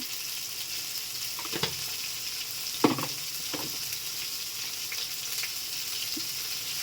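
Chili, coriander and cumin powder sizzle in oil with hilsa fish and raw plantain curry, a soft steady frying hiss broken by a few stirring scrapes.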